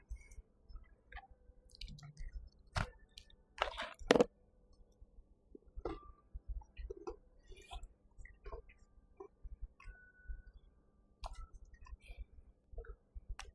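Crisp crunching bites and chewing of a frosted cookie close to the mic, irregular and fairly quiet, with a few sharper snaps in between.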